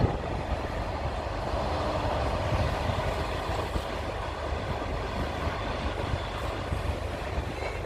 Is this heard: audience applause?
no